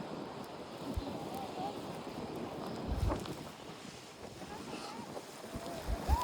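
Strong wind on a snowy mountain at Navacerrada, buffeting the microphone in a steady rough roar with gusty swells, while people's voices come through faintly.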